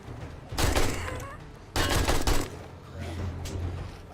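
Gunfire in the survival game 7 Days to Die comes in two loud bursts of rapid shots, followed by a quieter stretch of rumbling background noise.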